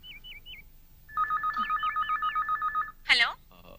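Telephone keypad tones beep in a rapid even series while dialing a long-distance STD call in a comedy scene, with a brief voice after the dialing and faint ringing-type tones at the start.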